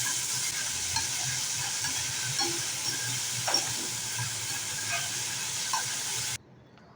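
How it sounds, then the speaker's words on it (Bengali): Potatoes and yardlong beans frying in a pan of oil with whole cumin seeds, giving a steady close sizzle and hiss with occasional stirring scrapes, cutting off abruptly near the end. "আর তারপরে দিয়ে দিচ্ছি আলু আর বরবটিটা। এটা প্রথমে ভেজে নিতে হবে।"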